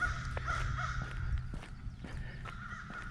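Crows cawing outdoors near a river boat ramp: several short, scattered caws sound at middle distance over a steady low rumble and hum.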